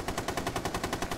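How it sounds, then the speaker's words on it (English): Rapid automatic machine gun fire in Rainbow Six Siege, a steady run of about a dozen evenly spaced bursts, loud and close, with no talking. "Just using all his machine gun ammo"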